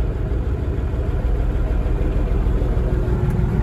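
A Landini tractor engine idling with a steady low rumble, loud and close throughout, with no talk.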